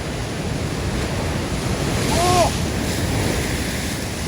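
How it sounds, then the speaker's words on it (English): Ocean surge washing over coastal rocks: a broad, continuous roar of surf and wind swelling briefly louder midway, with a faint high squeak over it. "So much surge!"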